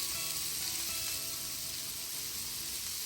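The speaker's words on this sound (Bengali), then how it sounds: "বেগুনগুলো প্রায় এখানে ভাজা হয়ে এসছে," Brinjal pieces fry in a pan of oil, giving a dense, unbroken hissing sizzle that stays even and close throughout.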